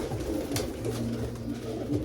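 A pigeon offered for sale coos close by, a low, soft, throaty rolling call held for about a second over faint background noise.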